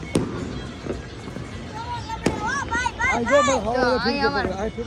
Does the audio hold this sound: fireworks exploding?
yes